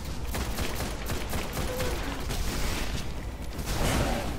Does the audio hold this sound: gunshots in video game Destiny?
yes